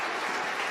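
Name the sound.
applause in SpaceX mission control after stage 1 landing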